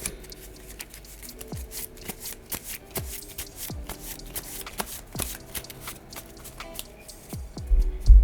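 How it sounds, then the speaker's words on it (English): A deck of Marvel Champions game cards is shuffled by hand at close range, a series of quick riffling bursts and soft slaps repeating in an uneven rhythm, ending with a louder knock as the deck is squared. "I'm just going to shuffle the deck up."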